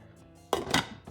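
A lid clanks onto a pot of conch set to simmer in salted water, two close metallic knocks about a quarter second apart, loud against a quiet room.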